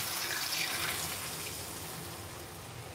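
Tap water pours steadily into a bowl to measure it for chicken tinola, a close, continuous rushing splash that stays even in loudness with no talking.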